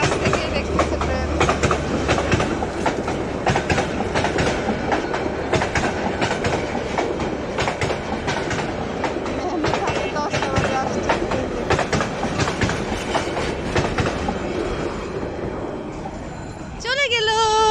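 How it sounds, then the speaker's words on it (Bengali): A train passes close by at night with loud, continuous clickety-clack of wheels on rail joints and a rumbling carriage roar. A brief squeal or horn-like tone rises near the end. "অবশেষে মেহমেদের ট্রেন চলে আসলো।"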